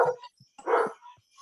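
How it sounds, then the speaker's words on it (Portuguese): A dog barks at a distance, two short muffled barks with faint yips between them, quiet and brief. "porque tem um cachorro latindo aqui, aí tá atrapalhando um pouco."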